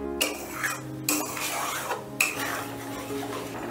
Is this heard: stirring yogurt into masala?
yes